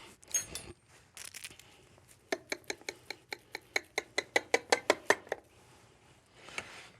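A knife cuts into a baked tomato dish with melted ricotta, giving a quick series of about a dozen sharp, evenly spaced clicks and taps against the dish, preceded by a few scrapes.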